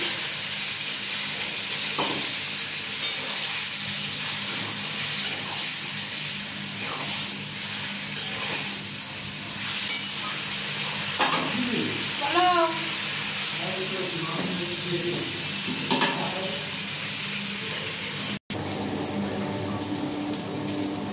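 Aloo pakora, potato fritters, frying in oil, giving a steady close sizzling hiss that runs throughout with a few stirring clatters, while a voice briefly sounds in the middle.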